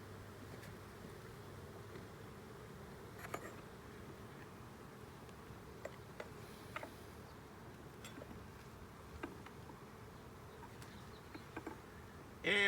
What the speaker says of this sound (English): This has been a great year for gentle bees.